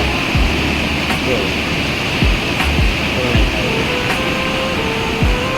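River water pours over a check dam with iron pipes on the Orsang river, a loud, close, unbroken roar with occasional low thumps, and a voice faintly beneath it.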